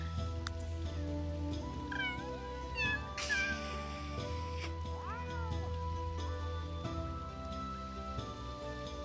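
Cats in the Sims 3 video game meowing, yowling and caterwauling in rising and falling cries as they hiss and fight, set over steady game background music.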